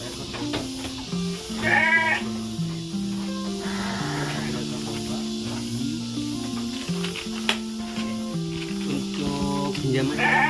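Sheep bleat repeatedly in a pen, a couple of wavering calls standing out over a busy background of tonal music and clatter.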